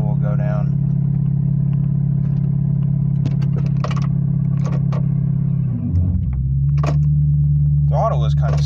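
A 1999 Ford F-250 engine idles close by with a steady low rumble whose idle stays high, then shifts pitch and settles into a slightly different hum, with light clatter and clicks on top.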